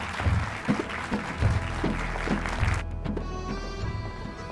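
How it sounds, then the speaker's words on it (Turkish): Applause rises for a student performance by a Kazakh Turkish high school group, dense clapping over a thumping rhythmic beat that cuts off abruptly partway through, leaving quieter tones behind. "Alkışlarınızla."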